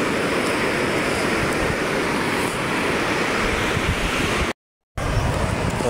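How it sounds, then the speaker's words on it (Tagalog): Ocean surf breaking at a surfing spot, a steady, loud, broadband roar of waves that fills the whole stretch, with a brief cut to silence near the end before the wash resumes. "Napakaganda ng alon."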